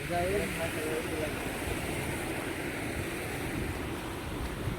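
Steady rushing surf with wind buffeting the microphone, a continuous broadband wash of sea waves close by at a village seashore, with no distinct breaks.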